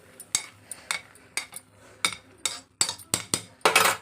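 Metal pot and utensils clank and clink in a home kitchen as a pot of cooking greens is lifted off the stove, a series of sharp knocks and scrapes close by, with no talk.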